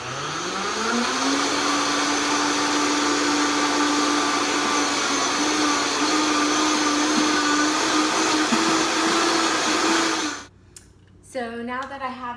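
An electric blender whirs loudly and continuously while mixing cucumber for juice, rising in pitch as it spins up, then cuts off near the end, followed by brief talking.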